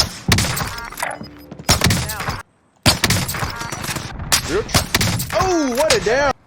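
Swiss K31 bolt-action rifle shots in the video game Call of Duty Warzone, several loud sharp cracks in quick bursts separated by short silences, mixed with game effects and a voice talking.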